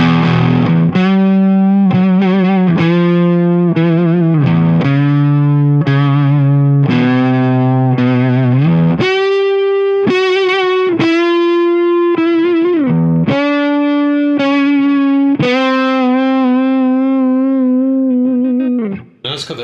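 An electric guitar, a Telecaster, runs through a Boss Blues Driver pedal for a chunky semi-fuzz tone, playing a steady run of loud, gritty, sustained notes and phrases that climb higher midway, with no talking over it.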